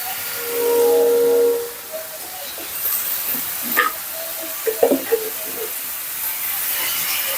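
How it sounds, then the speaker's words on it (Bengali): Sizzling hiss of meat frying in a hot pan, a steady crackle with a few sharp spits and pops, close by. "মাংসটা ভাজা হচ্ছে"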